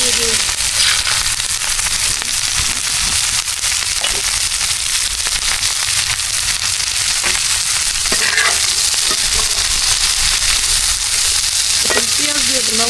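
Onions fry in a hot wok with a loud, dense crackling sizzle that fills the space, steady throughout, with faint voices in the background.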